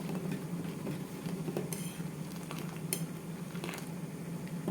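Coffee being stirred in a pot on a stove gives soft, steady scraping and clinking of a spoon against the metal, close and continuous, with no talking.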